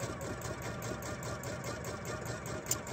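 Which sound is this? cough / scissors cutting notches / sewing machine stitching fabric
sewing machine stitching fabric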